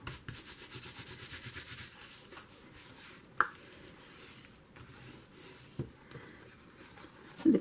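A fingernail rubs and presses along a book cover to clear away excess glue, giving a soft, close, continuous scratchy friction with a few sharper scrapes and no talking.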